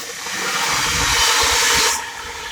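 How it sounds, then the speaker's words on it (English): A Class 700 Thameslink train runs on the East Coast Main Line at Welham Green, making a loud rushing hiss that swells and then cuts off abruptly as it passes close by, with no talk. "700-9, working a Thameslink service from London King's Cross to Cambridge."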